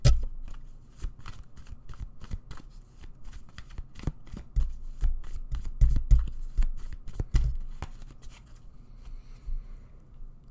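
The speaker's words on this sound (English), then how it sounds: "let me pull you some more cards" Tarot cards being shuffled and pulled by hand, close and fairly quiet, with a quick irregular run of crisp riffling snaps and flicks that thins out toward the end, no talking.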